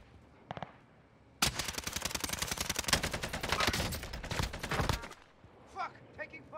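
Rapid sustained gunfire from the Warzone video game on Rebirth Island, a dense burst of shots lasting several seconds, loud and close, with a few brief bits of talk before and after.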